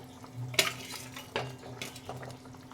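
A spoon scrapes and knocks against a pot in three close strokes, stirring cooked mixed vegetables together with fried rohu-type fish pieces and lentil dumplings, with a faint sizzle between strokes.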